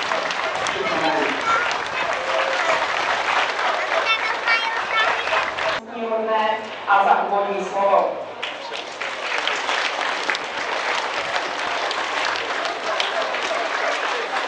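Audience seated on a wagon applauds to congratulate on a jubilee at an integrated rescue services day in Pelhřimov, steady crowd clapping with a voice speaking over part of it.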